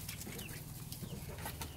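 About fifteen young chickens pecking at sand and feed give soft, scattered clucks and chirps over a steady low background hum. The sounds are faint and close together.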